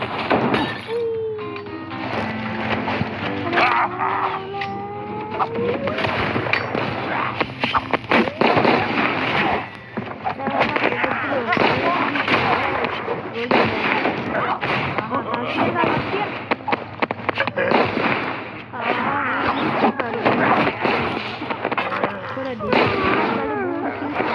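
Loud, chaotic battle sounds from the game Zooba: a gorilla character's golden bomb sets off repeated booming blasts and shattering crashes that run almost continuously, with a voice talking over the din.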